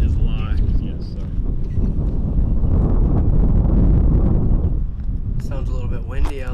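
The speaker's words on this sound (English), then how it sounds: "Sounds a little bit windy out there." Strong wind gusts buffet the microphone on an outdoor disc golf course, a heavy, rumbling roar that swells mid-clip, with people talking over it near the start and end.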